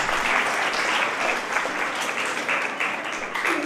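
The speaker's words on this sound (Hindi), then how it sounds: "एक बार जोरदार तालियां बजाकर स्वागत कर दें।" Audience at an Arya youth council foundation day event claps loudly to welcome a member of parliament, a dense sustained round of applause lasting a few seconds with no talk over it.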